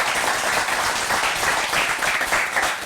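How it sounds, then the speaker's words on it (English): Audience applause for the panelists at the close of a panel discussion on Cameroon's Anglophone problem, a steady, dense wash of clapping from a crowd that holds at full strength for about three seconds with no talk over it. "give a round of applause to our panelists again."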